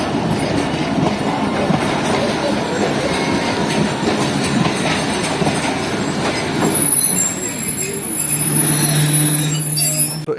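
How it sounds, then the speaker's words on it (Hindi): A Pakistan Railways Jaffar Express pulls out of Sibi Junction station, its carriages giving a steady, close rolling rumble with metallic wheel squeal, then a sustained squealing tone near the end. "हमारी 39 अब जाफर एक्सप्रेस जो है इस वक्त सिब्बी जंक्शन रेलवे स्टेशन से निकल रही है"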